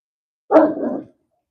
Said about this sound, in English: Dog woofing.